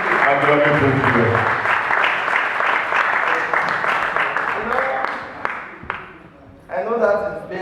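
Congregation at a funeral service clapping in praise of God, dense sustained applause that fills the space, with raised voices mixed in, thinning briefly near the end before surging again.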